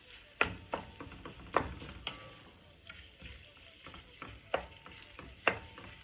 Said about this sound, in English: So we're gonna cook our meat, and once it's almost done, then we'll add the ingredients.